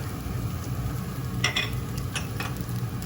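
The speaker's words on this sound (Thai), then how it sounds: "ใส่ผักลงไปแล้วนะคะ ก็ผัดอีกแป๊บนึงนะคะ" Vegetables stir-fried with instant noodles in a hot pan, a steady close sizzle running throughout with several sharp scraping strokes of a spatula against the metal.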